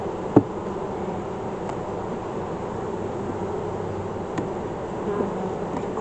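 Honeybees buzz around an open hive during a spring inspection, a steady dense drone filling the air throughout, with a few brief clicks and knocks from handling the hive, no talk.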